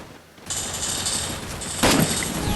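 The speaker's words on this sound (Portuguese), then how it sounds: "Dei um tiro, o Arthur finalizou." Gunfire in the mobile battle royale game Free Fire rattles out as a sustained burst of rapid shots, with one sharper louder crack near the end, loud and close.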